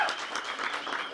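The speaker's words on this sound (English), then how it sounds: "Let's give a big round of applause to Wingstop for making this happen for us." Audience applause at a radio station's sound stage event, a brief burst of crowd clapping, fairly full and continuous, with no voices on top.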